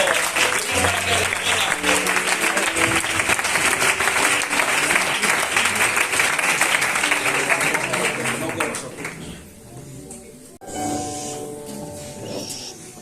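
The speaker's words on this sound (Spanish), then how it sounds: "Aplaudan al Señor." A church congregation at a youth service in Benavente applauds, loud dense clapping that holds steady for several seconds before fading to a softer patter near the end.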